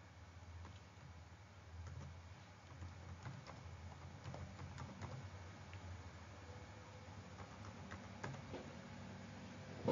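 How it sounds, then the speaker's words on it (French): Soft keystrokes on a computer keyboard as a username is entered, faint irregular clicks scattered over a low steady background hum. "je vais taper le même utilisateur que tout à l'heure"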